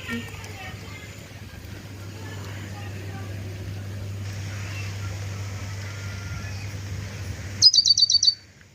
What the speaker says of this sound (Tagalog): Tunog ng ibon. Andito lang siya.